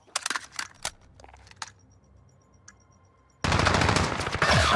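Gunfire in Call of Duty: Modern Warfare, a few sharp shots and short bursts early, a lull, then sustained loud automatic fire for the last second and a half.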